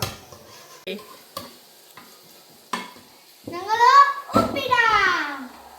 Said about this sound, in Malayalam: നല്ലപോലെ ഇളക്കുക ഇങ്ങോട്ട് ശക്തിയായിട്ട്